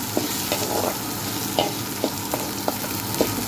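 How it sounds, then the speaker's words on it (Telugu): Garlic and a small tomato sizzle steadily in a pan for carrot pachadi, with a constant close frying hiss and periodic scrapes and clicks of a spoon stirring through it. "పచ్చి వాసన పోయేంత వరకు ఫ్రై చేసుకోవాలి"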